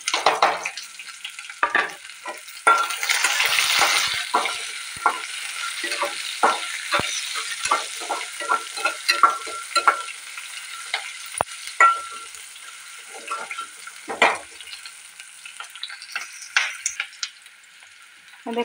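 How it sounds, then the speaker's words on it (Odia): Onions frying in hot oil in a pan after garlic, a steady sizzle broken by repeated scraping and clacking as a spoon stirs them, close up and without speech. "ରସୁଣଟା ଆମର ହେଇଗଲା, ଏବେ ମୁଁ ପିଆଜ ପକେଇଦେଉଛି।"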